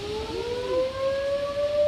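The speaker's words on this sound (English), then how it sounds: "our sirens always sound like this." An Ohio storm warning siren wails steadily during heavy rain and strong wind, its rising tone sustained and loud throughout with no talking.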